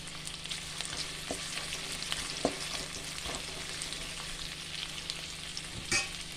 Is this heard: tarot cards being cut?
no